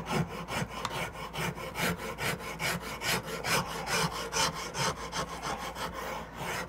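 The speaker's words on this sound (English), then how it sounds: "And then again, I'll file that 30-degree angle to there." A hand file rasps across a wooden guitar neck at a 30-degree angle, steady back-and-forth strokes in a close, even rhythm, dry and scratchy with no talking.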